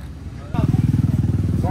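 A Stark Varg electric dirt bike motor whirs up and revs in a steady pulsing drone, close by, starting abruptly after a brief quiet moment.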